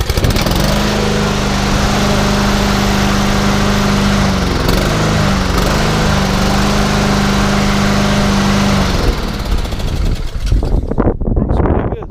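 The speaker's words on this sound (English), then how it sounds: "Not bad for a 20-year-old lawnmower." An old, roughly 20-year-old lawn mower engine, with freshly changed oil, runs steadily at close range with a loud, constant drone, briefly wavering in pitch before sputtering and cutting out near the end.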